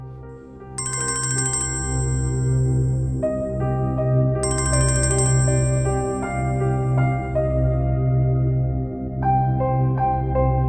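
A phone's ringtone for an incoming call plays a repeating electronic melody with bright chiming notes, loud and close, over a steady low background hum, with no talking.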